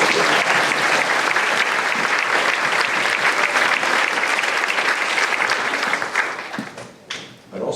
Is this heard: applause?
yes